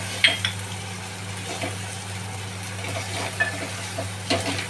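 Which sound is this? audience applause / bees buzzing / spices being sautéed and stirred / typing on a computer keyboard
spices being sautéed and stirred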